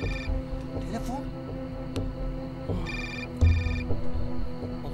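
A telephone rings in short repeated electronic bursts, loud and close, over a tense indoor scene with ongoing background noise and a thump partway through.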